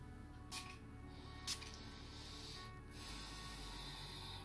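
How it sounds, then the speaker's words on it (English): A chakra spray bottle is spritzed in a quiet room, giving three short, soft hissing bursts spaced about a second apart over a faint background, with no talk. "I'm gonna spray this chakra spray."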